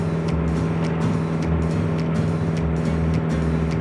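An MG TC roadster drives along a public road, its engine droning steadily and loudly from close by with rhythmic low pulsing throughout and no talk.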